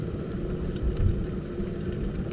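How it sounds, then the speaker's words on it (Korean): An electric kettle brings water to a rolling boil while powered from the outlet of a Hyundai Ioniq 5, a steady low rumbling hiss close by with faint bubbling, heard alone. "물이 잘 끓고 있습니다."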